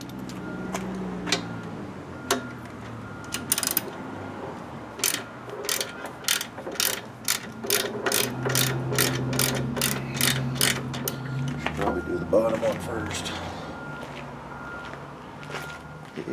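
A ratchet socket wrench loosens the bolts of a broken spare tire carrier, with scattered clicks early on and then a long, fast, even run of sharp ratcheting clicks close by, outdoors.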